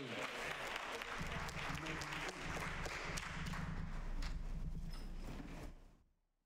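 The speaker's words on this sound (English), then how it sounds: "Give the Lord a hand clap of praise." A church congregation at a Baptist service claps hands in praise, producing dense, sustained applause that fades out quickly at the end.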